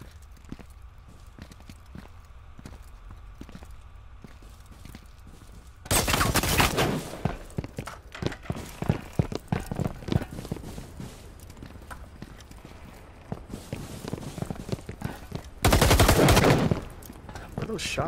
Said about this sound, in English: Where are those shots coming from?